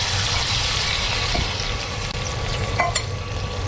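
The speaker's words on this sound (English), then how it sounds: "Now I mashed some garlic paste with the chilies together. I added some hot cooking oil." Mashed garlic and chili paste frying in hot cooking oil for an Indian curry, a steady, close broadband sizzle with a few brief clinks and stirs partway through.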